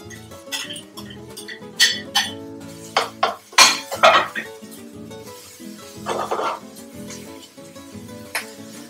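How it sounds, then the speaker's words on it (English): Cut bacon goes into a pan of softening ingredients for an Asian-style spaghetti carbonara, with clinks of utensil against pan and a soft sizzle, while a person talks throughout. "I'm gonna add in the bacon, which I already cut."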